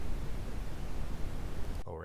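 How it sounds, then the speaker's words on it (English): Brown noise generated in Adobe Audition on a 48K mono file, a deep, rumbling, continuous rush weighted toward the low end, steady for nearly two seconds before cutting off abruptly. "brown noise"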